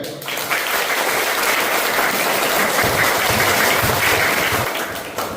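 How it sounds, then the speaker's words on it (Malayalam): Fans of Ronaldo in an audience clap steadily and loudly for about five seconds with dense, even applause. The applause tapers off at the very end. "എന്നാൽ റൊണാൾഡോ ഫാൻസ് ഒന്ന് കൈയടിക്കും."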